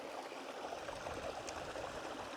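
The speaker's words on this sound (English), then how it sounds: "Lake on Dartmoor is a stream, similar to Burn in Scotland is a stream or a small river." Red Lake, a small moorland stream on Dartmoor's south moor feeding the Erme, flows in a steady close rushing babble, alone with no voices.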